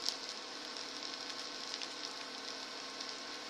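Onions browning in a pan on a stove during a dahl and curried broccoli cook-along, giving a steady, soft, close sizzle and hiss that holds evenly throughout with no talking.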